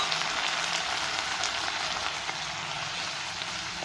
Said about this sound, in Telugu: తర్వాత మనం కట్ చేసుకున్న టమాటాలను కూడా వేసి ఫ్రై చేసుకోవాలి.